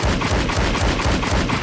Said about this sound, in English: And you can shoot through this vent as well.